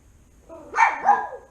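A dog gives two quick, close barks in a row, fairly loud, with a quiet background and no talking over them.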